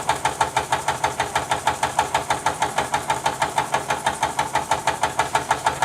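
A Jean Comby model steam engine with a flywheel of roughly four inches runs steadily, giving a fast, even chuffing and knocking beat throughout, close and alone.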